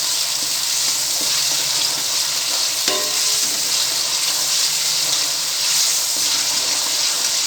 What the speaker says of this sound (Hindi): लहसुन अदरक के पेस्ट को भूनेंगे जब तक इसका कलर गोल्डन ब्राउन हो जाए